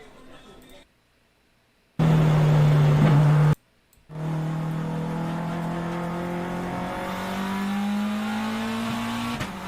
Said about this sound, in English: This car does this crazy clicking into gear